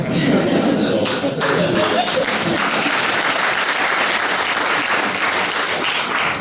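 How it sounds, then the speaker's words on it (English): Dense, loud audience applause fills a talks event hall, a continuous wash of many hands clapping at once without letup, close and full throughout. "that's 2 rounds of applause"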